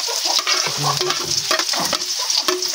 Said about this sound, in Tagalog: Halo-haloin lang natin hanggang sa mag-golden brown